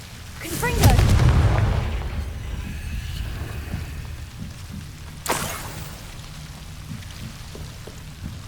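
A Confringo fire spell goes off in Hogwarts Legacy, with a loud booming blast early on and a rumbling tail. A second sharp impact follows a few seconds later over a steady ambient bed.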